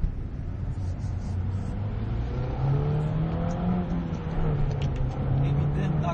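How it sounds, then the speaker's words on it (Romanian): A Mini Cooper S engine hums and rises in pitch as it accelerates, a steady interior drone building gradually, with no clear speech. "dacă accelerăm, motorul se aude în habitaclu, însă e o plăcere"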